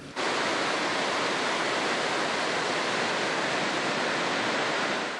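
Floodwater pours below a full, overflowing Wyangla Dam as a loud, unbroken roar of rushing water, steady and broadband without pause.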